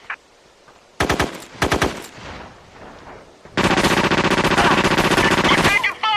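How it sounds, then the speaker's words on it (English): Automatic and rapid gunfire in a military shooter video game, loud close bursts, a couple of short volleys followed by a long sustained stream of shots, with faint game audio between. "We're taking fire!"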